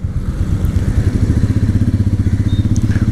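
Royal Enfield Meteor 350 single-cylinder motorcycle engine thumps in a fast, even, close pulsing rhythm that stays loud and steady throughout with no talk.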